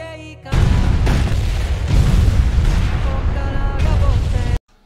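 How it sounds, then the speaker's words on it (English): A loud, rumbling explosion in the anime film Your Name: a deep sustained boom fills the scene, with brief tonal music or sirens rising near the end before a sudden cut to silence. "That's a quality explosion."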